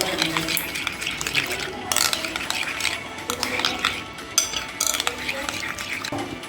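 Ostrich egg batter being mixed in a pot, with repeated scraping and clinking of a ladle against metal in an uneven rhythm, close and fairly loud, with a voice talking alongside.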